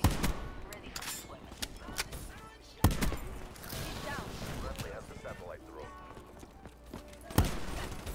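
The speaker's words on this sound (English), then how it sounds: "I love the sound of the shotgun" Two sharp, loud shotgun blasts from Black Ops 3, spaced several seconds apart, punch through busy game sound while people keep talking.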